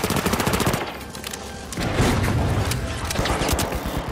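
Turret firing in the video game The Finals, rapid bursts of automatic gunfire in several loud volleys separated by brief pauses.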